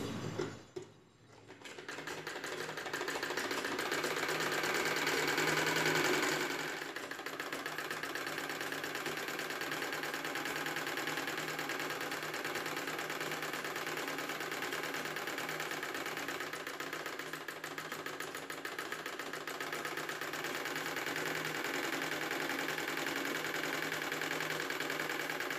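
A sewing machine stitches the folded neck piece of an umbrella top, a steady mechanical whirr running continuously at moderate volume after a brief pause near the start.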